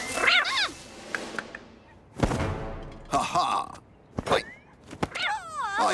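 A cartoon cat from a Mr. Bean animated episode meows several times in short, wavering cries, mixed with brief thumps and spoken voices.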